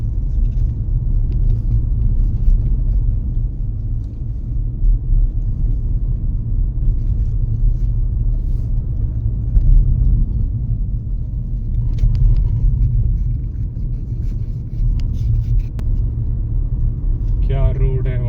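A Maruti Brezza drives a narrow mountain road, its steady low engine and road rumble filling the whole stretch up close, while a person talks over it.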